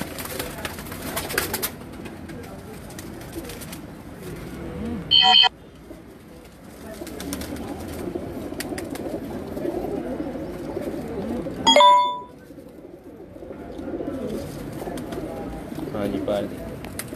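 Racing pigeons coo softly in a steady low murmur through a noisy, busy background, with a couple of brief sharp clicks along the way.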